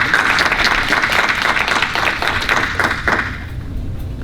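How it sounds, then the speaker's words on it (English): Loud, close audience applause welcoming commissioners at a public meeting at Morgan State University, thick and continuous before tapering off in the last second. "give them a round of applause"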